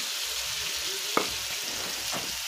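Onions frying in a pan for a Bengali potato dish, a soft, even sizzle throughout with a single brief clink partway through.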